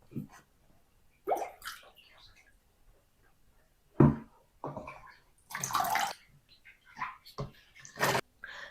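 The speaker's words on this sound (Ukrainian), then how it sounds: "і буду сюди ж наливати майбутній квас." Homemade coffee kvass pours and splashes into ordinary bottles in several short bursts separated by pauses, close by and moderately loud.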